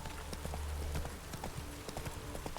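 Horse hooves in the Witcher 3 game clip-clop at a steady trot through a city, a quick regular rhythm of close, crisp hoof strikes.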